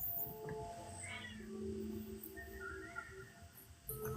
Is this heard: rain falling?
no